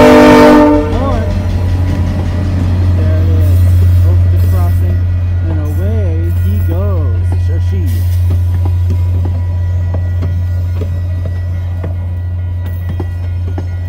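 A VIA Rail train, locomotive 6412, nears a level crossing with a long, steady horn sounding throughout, loud and close, while a voice speaks briefly over it near the start.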